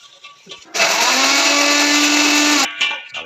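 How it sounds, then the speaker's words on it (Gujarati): A kitchen mixer grinder whirs loudly for about two seconds, grinding cardamom, starting and stopping abruptly, with faint sounds before and after. "બે ભૂમરા એલસીના મારી દીધા છે મિક્સરમાં"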